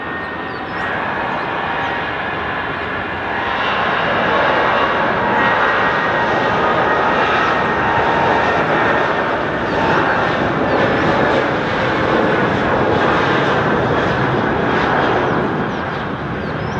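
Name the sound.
airplane taking off from Dhaka airport runway 14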